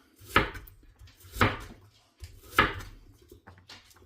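Knife chopping onions into big, chunky pieces on a cutting board, three distinct sharp chops spaced about a second apart, close and fairly quiet with low hum between strokes.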